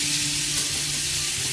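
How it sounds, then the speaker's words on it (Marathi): Onion sautéing in oil for hotel-style matar paneer, a dense, steady, close sizzle with a faint low hum beneath and no voices. "आपण कांदा परतवायला घेतलेला आहे,"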